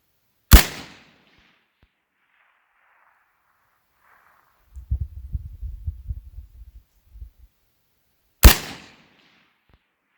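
Two sharp, loud Heckler & Koch SL8 rifle shots several seconds apart at an outdoor range, each a crisp crack with a short decaying tail, and a low distant rumble between them.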